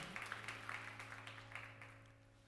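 Steady applause from a church youth worship congregation, a dense wash of clapping that holds for a couple of seconds and slowly fades, with a low hum underneath.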